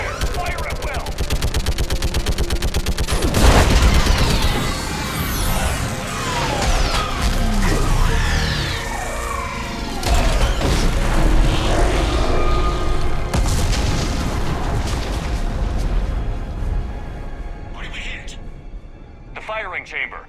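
Gunfire and explosions in the Mass Effect 3 video game, with rapid bursts of weapon fire and heavy booms layered continuously over loud battle noise, while voices speak throughout.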